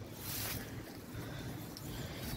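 Steady outdoor wind blowing at a guinea pig and rabbit enclosure, a continuous low rushing buffet with broadband hiss, moderately faint and steady throughout, with no voices.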